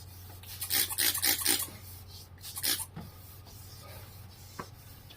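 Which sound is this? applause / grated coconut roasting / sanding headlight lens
sanding headlight lens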